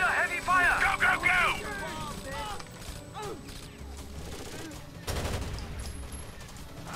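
Bursts of automatic gunfire in Rainbow Six Vegas under heavy fire, rattling shots mixed with mechanical clatter, while voices shout over the fighting.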